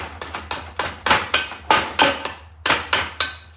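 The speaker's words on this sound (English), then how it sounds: "We're gonna chisel out this, see where we get." Chisel blows knocking thick cladding off the spokes of a Chevy Silverado wheel, about a dozen sharp, close metallic strikes in an uneven steady rhythm, each with a short ringing decay.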